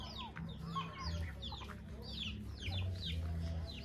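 Chickens on a rural farm cluck and chatter in a steady run of short calls, moderately near but fairly quiet, against a low background hum.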